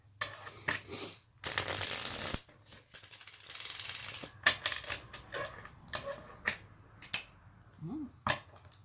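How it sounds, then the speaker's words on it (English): Quiet, close riffling bursts of playing cards being shuffled, several short rounds with pauses between them and faint clicks. "Give it a quick shuffle."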